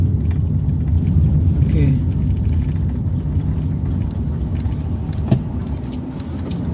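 A car engine runs steadily as a low, continuous rumble at close range, with a person talking briefly over it.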